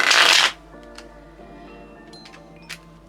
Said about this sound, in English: let's get these shuffled